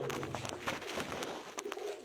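Pigeons of a prized competition breed coo softly in a loft, a low repeating burble with faint chirps and rustles, no talk.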